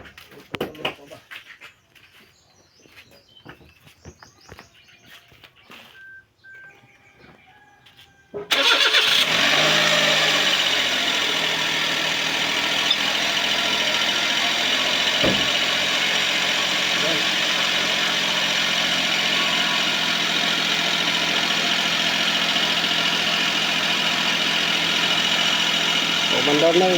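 A Suzuki Palette wagon's engine cranks and catches after a short stretch of quiet handling noises, then settles into a steady, loud idle that hums on for roughly twenty seconds.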